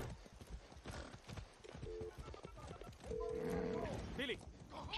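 Rhythmic hoof clip-clops of a horse trotting in the video game Far Cry 6, fairly quiet, with a brief whinny-like tone and game sounds in the background.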